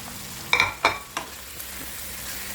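Chicken sautéed in a pan for adobo with coconut milk gives a few sharp scraping stirs over a soft, faint sizzle, three quick strokes then quieter frying alone.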